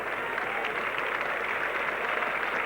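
Crowd at Edgbaston cricket ground applauding a new batsman walking out in a 1975 England versus Australia Test match, a steady, dense wash of clapping that holds even throughout, heard alone with no voices.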